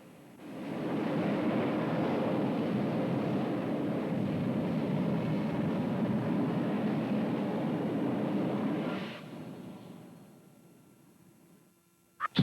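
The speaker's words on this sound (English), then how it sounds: "let's take a look at more great action from that Green Mamba jet car" A jet-powered drag racing car, the Green Mamba, roars in a loud, steady broadband blast for about nine seconds, then the noise drops away and trails off as it passes into the distance.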